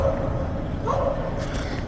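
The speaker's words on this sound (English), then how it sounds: "one annoying little dog" A small dog yaps briefly at a distance from a balcony overlooking city buildings, a short high bark half buried in steady outdoor street noise.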